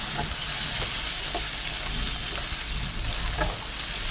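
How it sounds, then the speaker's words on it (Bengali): Turmeric, chili, cumin and coriander powders frying in oil as the masala is cooked down, a loud, steady sizzle running throughout, with a few faint stirring scrapes and clinks. "দিয়ে এটাকে ভালো করে মশলাটাকে কষাবো"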